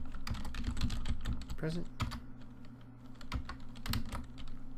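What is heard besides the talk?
typing on computer keyboard into spreadsheet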